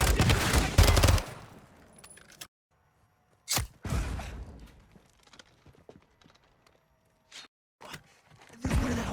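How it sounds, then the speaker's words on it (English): Gunfire and rocket fire in a video game combat scene: a dense opening burst of shots, then scattered sharp single reports and booms separated by quieter gaps, loud and close. "Right side is taking rocket fire from building 2."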